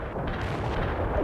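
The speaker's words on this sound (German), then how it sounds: "Phosphor ist geladen. Koordinaten erhalten. Feuer!" Artillery firing phosphor rounds in the World in Conflict strategy game, a deep rolling low boom that rumbles steadily throughout the short stretch, heavy and dense with no voices over it.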